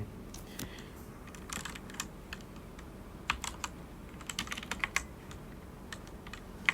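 Someone types on a computer keyboard, producing soft, irregular keystroke clicks in short bursts and single taps against a quiet room background.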